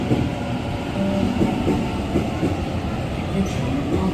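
A Sydney train rumbles at the Strathfield station platform, a steady, close, broadband roar of rolling wheels and motors that runs unbroken throughout, with no talk in the foreground.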